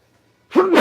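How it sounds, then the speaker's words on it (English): A person sneezes once, close and loud: a short intake followed by a sharp burst after a moment of near silence. "I gotta sneeze."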